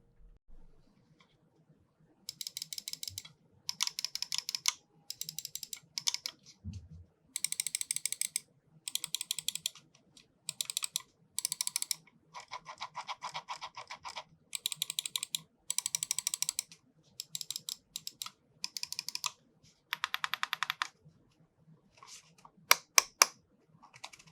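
Bursts of quick, crisp plastic clicking from an Xtrfy M8 computer mouse's buttons come in short rapid runs separated by silences, close and fairly quiet, with a few sharper isolated clicks near the end.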